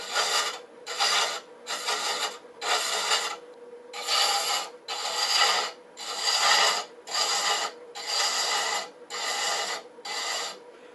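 Hand chasing threads on a boxwood box on a lathe, a close, dry rasping of the tool against the spinning wood, repeated in about eleven even strokes with short pauses between them.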